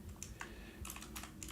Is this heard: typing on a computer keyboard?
yes